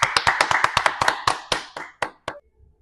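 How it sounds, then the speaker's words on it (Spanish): Students clapping together in a classroom, about a dozen distinct claps, tightly spaced then thinning and fading out to quiet, fairly close and alone without talk. "Démosle un fuerte aplauso, muchachos."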